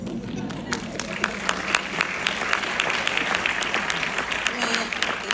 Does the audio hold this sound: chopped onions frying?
no